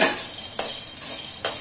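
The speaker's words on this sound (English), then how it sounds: "I am going to dry roast all the groundnuts here" Groundnuts dry roasting in a hot pan over medium flame: a soft rustling hiss broken by a few sharp scrapes and clinks of a spoon stirring against the pan, close and alone.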